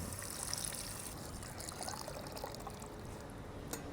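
Water pours into a pot of browned beef haleem, a faint, steady trickling stream that runs throughout, quiet and close, with no voices.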